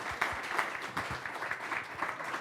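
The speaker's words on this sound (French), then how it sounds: "Et là, oui, on peut l'applaudir." Faint, thin applause from a small audience at a business talk on exporting, a few seconds of scattered hand clapping heard at low level, with no talking.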